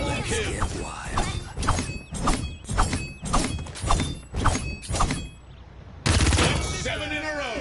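SMG gunfire in the video game Paladins, about eight rapid bursts of shots in a rhythmic pattern, loud and close, broken by a brief pause before a final sharp burst with other game effects.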